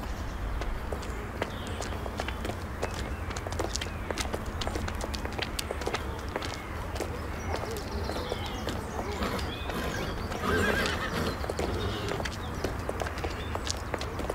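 Hooves clip-clop and patter steadily on the ground over a continuous low outdoor background, with no clear neighing standing out.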